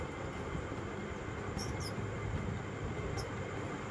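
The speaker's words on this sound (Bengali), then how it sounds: "তারপর কিছুক্ষণ পরে ট্রেনটা ছাড়লো" An empty train pulling out of a deserted station, a steady broadband rumble of wheels and carriage noise throughout, with a couple of brief high metallic squeals partway through.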